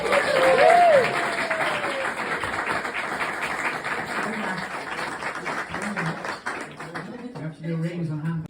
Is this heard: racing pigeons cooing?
no